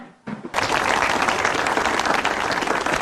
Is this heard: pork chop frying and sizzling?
no